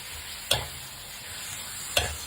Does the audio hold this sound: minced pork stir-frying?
yes